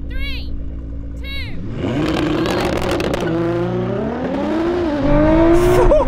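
A Ferrari SF90 and a Nissan GT-R launch hard off the line in a drag race, loud engines rising steeply in pitch as they accelerate together, with excited voices talking over the roar.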